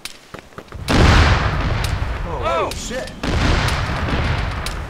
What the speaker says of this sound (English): No, that was... cannon fire.